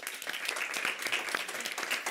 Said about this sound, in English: So applause for all three.